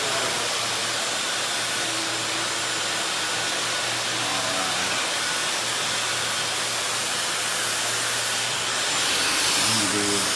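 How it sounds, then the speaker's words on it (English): Blow dryer runs on high during a long bob haircut in a salon, giving a loud, steady rushing hiss with a low motor hum underneath that holds throughout. "you have to drop your blow dryer down a bit so people can hear you"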